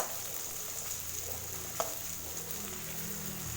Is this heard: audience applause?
no